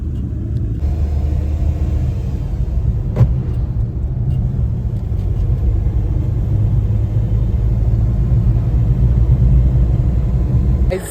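A car drives steadily along a road, its low engine rumble and tire noise continuous throughout, with a brief knock partway through.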